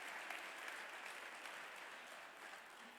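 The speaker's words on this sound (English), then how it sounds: "Let's give a big round of applause for our partners who can make this event happen." An audience at a startup demo day event applauds, a steady wash of clapping heard from a distance at moderate level, with no voices over it.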